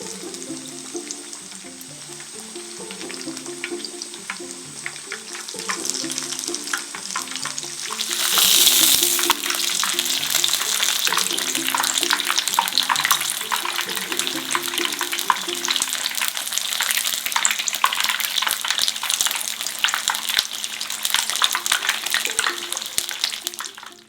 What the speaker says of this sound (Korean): 5분간 튀겨줍니다